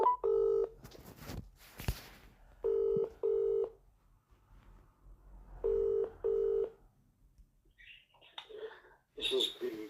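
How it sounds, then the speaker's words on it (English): Telephone keypad tones sound while a call is placed to a council solicitor: clipped beeps in pairs repeat three times with quiet gaps between, a couple of clicks, and brief faint murmuring near the end. "ringing up Graeme Kenna."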